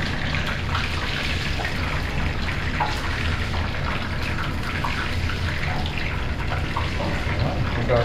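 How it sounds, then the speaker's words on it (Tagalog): Tap water runs steadily into a sink while a frying pan used for fried fish is washed, a constant splashing rush with faint clatter and no talk. "Hugasan na po natin yung kawali natin."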